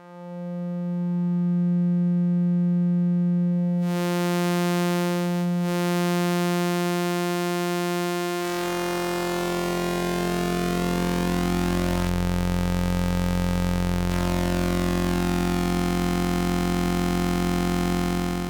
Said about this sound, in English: control the volume so we can hear the oscillator